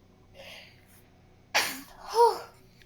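A single sharp sneeze during a tabletop Dungeons & Dragons session, preceded by a faint breathy intake and followed by a voiced exclamation, close and fairly loud against a quiet room.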